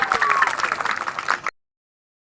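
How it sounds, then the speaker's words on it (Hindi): Students at a coaching-class farewell clap loudly together, a dense burst of applause with cheering voices that cuts off abruptly into silence. "एक बार दिल से आप लोग लिए खुद के लिए ताली जोर से होना चाहिए"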